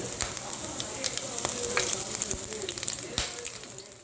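Pepper and cumin spluttering in hot oil as a tempering for wheat pongal, a steady close sizzle with scattered sharp pops and crackles throughout.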